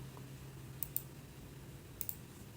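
A computer mouse clicking on a web page, two faint pairs of sharp clicks about a second apart over a low steady room hum, with no talk.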